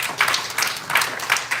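Audience applause, a short, sparse burst of clapping from a small group with uneven, pulsing claps.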